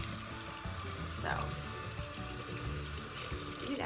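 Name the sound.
tap water running over a makeup brush in a sink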